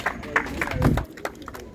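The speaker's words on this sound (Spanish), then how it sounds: "¡Ey, un aplauso, señor!" Spectators at an amateur football match applaud a player leaving the field, scattered claps from a small crowd heard close and outdoors, mixed with shouting voices.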